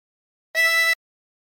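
A harmonica blows a single note on hole 5 while playing "Waltzing Matilda": one short, clear, steady reedy tone alone in silence.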